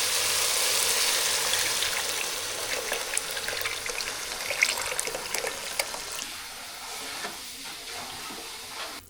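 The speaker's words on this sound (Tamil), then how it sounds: "குழம்புக்கு தேவையான அளவு தண்ணி சேர்த்துக்கலாம்" Water poured into a simmering country crab curry, a bright splashing pour that is loud at first, then thins into scattered drips and light trickles.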